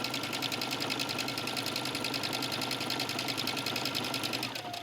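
A sewing machine runs in one continuous fast, even burst, topstitching along the edge of an unlined trench coat, close and fairly quiet, with no talking.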